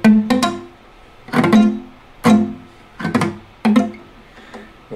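A beginner strums a poorly fretted barre chord on guitar five times at an uneven pace, each strum buzzy and cut short, with no talking.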